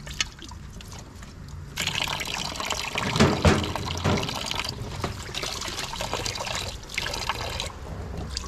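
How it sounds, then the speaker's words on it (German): Tap water runs and splashes while dishes are washed in a caravan sink, starting quiet then rising into a steady gushing trickle with slight variations as the flow and dishes shift. "Ich gehe mal gerne spülen."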